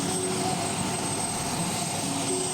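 A rescue helicopter flies overhead during flood rescues in the Baú area of Ilhota, giving a steady, broad engine and rotor roar that holds constant throughout with no talk.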